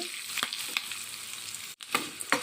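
Curry leaves and tempering spices frying in hot oil for dal, a steady close sizzle with crackling pops and brief stirring scrapes.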